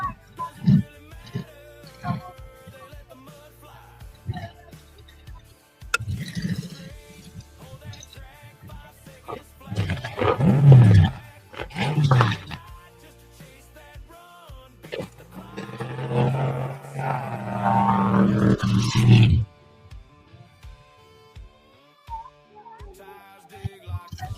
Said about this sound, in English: That is the first ever pass by a mud truck on Mud Racing Now.